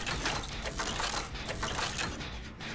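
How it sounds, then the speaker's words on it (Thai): A generator under repair in Dead by Daylight Mobile makes a continuous loud mechanical churning, with ratcheting and gear-like clatter in steady pulses, close up and alone. "ตอนนี้เราต้องปั่นไฟก่อนนะครับ"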